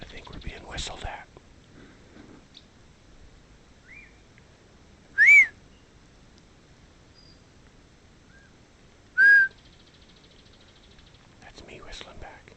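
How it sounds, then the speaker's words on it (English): A person whistles in the woods, two short, loud rising whistles several seconds apart over quiet background, with soft whispering near the start and end. "That's me whistling back."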